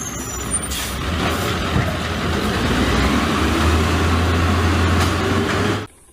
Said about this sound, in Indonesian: Ini adalah truk sampah.